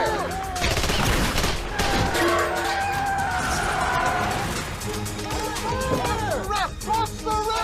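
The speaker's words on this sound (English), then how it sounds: "Open fire!" Soldiers opening fire at a closed roadblock, a dense burst of rapid gunshots and crashes mixed with shouting voices and a revving vehicle, loud and chaotic throughout.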